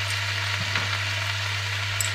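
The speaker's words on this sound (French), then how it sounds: "Je vais rajouter l'ail haché" Chopped garlic just added to a hot pan, giving a steady close sizzle with a faint scrape or stir partway through and no voice.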